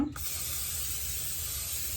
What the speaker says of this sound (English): I am going to put some of this olive oil spray